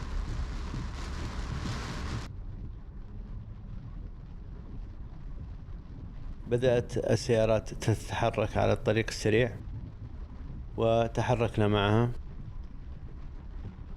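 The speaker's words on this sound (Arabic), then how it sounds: "وحدة المطر وغزارته تراجعت بعض الشيء." Heavy rain and wind from a storm in Jazan, loud at first as a dense wash, then softer and continuing beneath someone speaking from a car on a highway.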